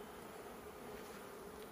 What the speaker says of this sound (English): Lots of bees there, good number of bees, which is really, really good.